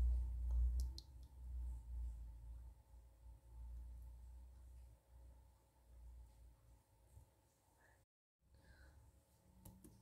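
Computer mouse clicks sound while an image address is copied: a few faint, sharp clicks scattered over a low steady hum, with no talk.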